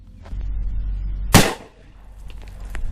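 A Ruger Redhawk Alaskan revolver chambered for .454 Casull sets off a single CCI primer: one sharp, loud pop, very brief and close, with no talk.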